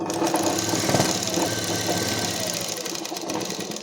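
A sewing machine stitching the collar of a kurti runs as a continuous, close, fairly loud mechanical whir with a steady rapid rhythm.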